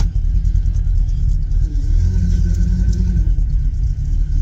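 A car engine rumbles close by at low speed while a strained power steering whine, from low fluid, rises briefly partway through, continuous and fairly loud with no speech.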